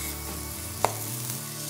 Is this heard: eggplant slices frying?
yes